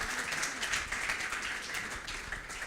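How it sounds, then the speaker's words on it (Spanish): A crowd applauds with steady, dense clapping that holds at an even level throughout. "Aplauso."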